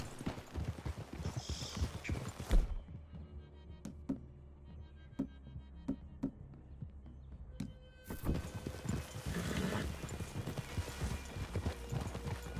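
Horse hooves clip-clop at a steady walking pace in Red Dead Redemption 2, close by, with a quieter stretch in the middle before the clopping picks up again.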